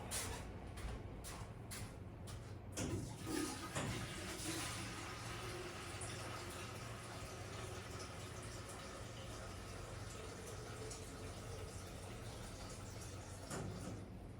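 Water poured into a bread dough mix at a London bakery, a steady broadband rush of liquid filling a container that runs continuously near the mic after a few short knocks at the start.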